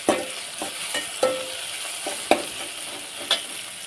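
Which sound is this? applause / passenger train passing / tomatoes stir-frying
tomatoes stir-frying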